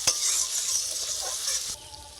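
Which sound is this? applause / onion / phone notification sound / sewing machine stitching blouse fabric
onion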